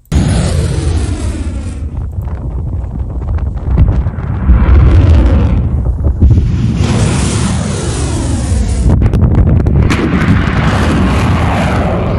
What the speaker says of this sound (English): These are their launchers.